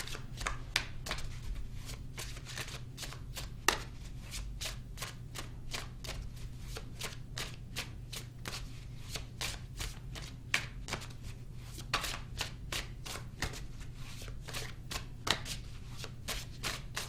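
Tarot cards are shuffled continuously and briskly, with rapid, dense riffling clicks at a steady rhythm, close up and fairly quiet against a low background hum, with no talking.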